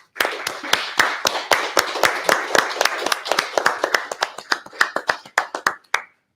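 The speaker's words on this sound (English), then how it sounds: "Another round of applause, please." Sharp, evenly spaced claps ring out at a brisk pace for several seconds, sounding like a small group clapping at a coding bootcamp graduation showcase, then stop.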